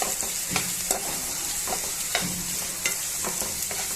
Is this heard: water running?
no